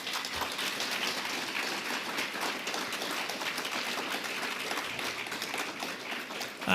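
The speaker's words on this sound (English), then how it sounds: "A round of applause for the candidates." An audience at a county board candidate forum claps steadily for the candidates. The applause is a dense, even patter, fairly faint and distant, like rain, with no voices over it.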